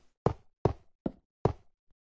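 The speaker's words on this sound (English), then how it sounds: "Shut the door because it's polite to shut doors" Four hollow thuds in Discovery, an indie Xbox game, evenly spaced about 0.4 seconds apart, close and fairly loud with brief decays, as a door is shut inside a house, followed by a faint fifth tap.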